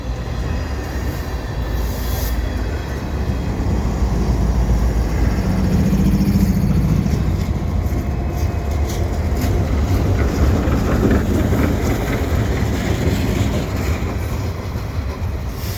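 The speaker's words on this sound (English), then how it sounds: "And I got the CSX train coming as well." A CSX freight train rolls past Lachine station on a winter afternoon, a steady loud rumble of railcars and wheels with faint clicking over the rails and no talk.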